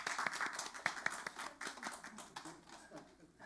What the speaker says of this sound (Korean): 우리 함께 귀한 박수로 환영하도록